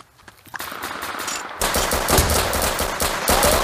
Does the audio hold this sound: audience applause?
no